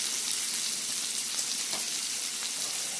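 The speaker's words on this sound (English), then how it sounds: "Pour the sauce all over the seafood." Sauce poured over a seafood boil of shellfish, giving a steady wet hiss and sizzle-like patter that stays close and even for the whole stretch, with no talking.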